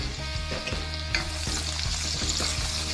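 Onions frying in margarine in a pan, a continuous loud sizzle overlaid with regular rhythmic scraping and stirring strokes, and no talking.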